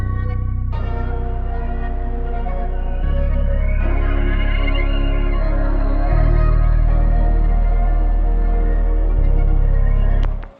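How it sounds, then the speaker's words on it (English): A synth pad drenched in reverb, heard at its original pitch, holds sustained chords that shift about every three seconds over a deep, loud low end, with no other sound. "The first sound that we got was this reverbed pad."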